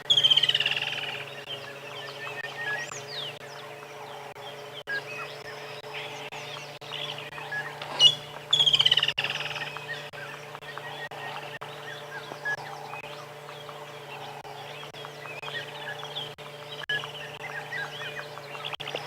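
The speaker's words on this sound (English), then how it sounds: "It's one of my favorites, a black-backed puffback." Black-backed puffback calling among other birds on a sunrise safari in the African bush, with repeated chirps and whistles spread over a steady ambient drone and a few louder calls nearby.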